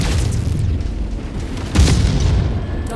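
Deep booming explosions of a destroyed target in the MechWarrior 5 video game, heavy low rumble throughout with a stronger blast hitting partway through.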